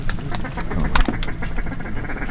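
Several ducks quacking overhead during a duck hunt, a cluster of close, repeated calls with hunters' voices mixed in against steady outdoor background noise.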